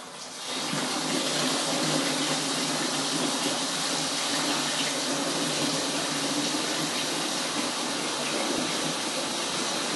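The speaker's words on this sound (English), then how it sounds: "drop that into your sink and fill that up with cold water." Steady rushing of cold water pouring from a tap into a winemaking container in a sink, continuous and fairly loud throughout with no voices.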